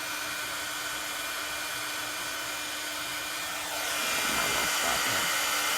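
A handheld heat tool blows hot air to melt black embossing powder on a stamped card, a steady close whirring hum that gets louder and shifts in pitch partway through as it is moved.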